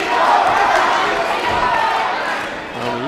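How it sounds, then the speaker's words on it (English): A boxing arena crowd erupts in loud cheering and yelling during a bout between Reyes and Horta, a swelling roar that peaks early and eases slightly, with a voice cutting in near the end. "And the crowd."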